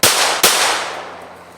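Two loud, close handgun shots at a shooting range, fired about half a second apart, each a sharp crack followed by a long decaying echo.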